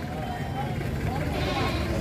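A goat at a livestock market bleats in a few wavering calls close by, under a murmur of people talking and bargaining.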